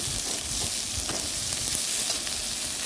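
Chopped onions fry in a little oil in a pan for a fish recipe, a continuous close hiss and sizzle with faint stirring scrapes and no talking.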